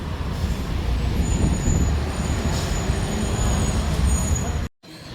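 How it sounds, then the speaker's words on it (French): A Chicago Pink Line metro train rolls with a steady roar and faint squealing of wheels on rail, heard from inside or nearby, before an abrupt break near the end. "Donc on prend le métro pour se rendre à la ville de Chicago."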